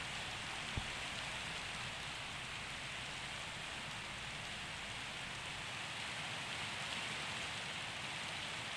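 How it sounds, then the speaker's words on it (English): Steady rainfall in Minecraft, a continuous even hiss of falling rain with no pauses and one faint click early on, moderately quiet and unaccompanied by speech. "And it's raining."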